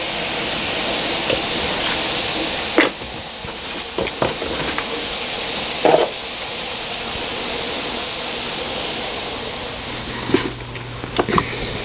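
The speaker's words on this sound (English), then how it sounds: "While this one's bubbling and you can see stuff's coming out of the drainage holes" Baking soda and vinegar fizz inside a sink drain, a continuous close hiss of foaming bubbles with a few soft knocks and clicks scattered across the stretch.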